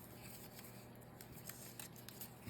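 Scissors snip through collage paper in a crafting session, a steady run of soft, close, crisp cuts with faint papery rustle, heard alone without talk.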